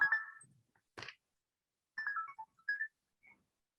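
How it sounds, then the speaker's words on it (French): A mobile phone rings indoors with short melodic electronic tone bursts separated by brief gaps, fairly quiet, with no talking during the ringing. "ça c'est mon portable."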